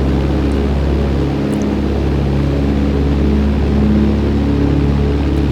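A Piper PA28 Archer's piston engine in the X-Plane 12 flight simulator drones loud and steady, a low, even cabin hum with layered harmonic tones and no voices.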